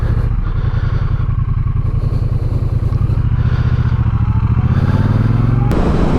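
A Triumph T120 motorcycle cruises at 70 mph with no windscreen, its engine a loud, continuous throb blended with heavy wind roar, heard up close from the rider's position without a break.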